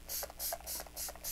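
Rapid bursts of a spray bottle spritzing, about five short hissing pumps in a steady rhythm, close and fairly quiet.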